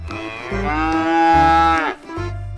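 A black calf gives one long, loud, close moo that rises and holds before breaking off, with another deep lowing sound starting just after.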